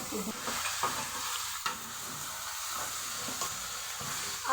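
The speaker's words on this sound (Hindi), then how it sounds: "ये चिकन हमने मैरिनेट करके रखा हुआ था, ये सारा इसमें हम डाल देंगे" Marinated chicken for a chicken curry sizzles and fries steadily in a pan, with a spoon scraping and stirring now and then over the constant loud hiss.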